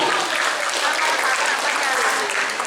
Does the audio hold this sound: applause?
yes